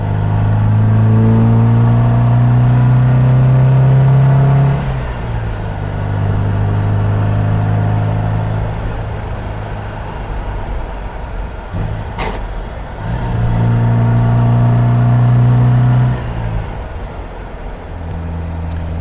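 A 1979 MGB GT engine revs while driving, climbing steadily in pitch through a gear, dropping at a shift near five seconds, pulling again and easing off, loud and close throughout.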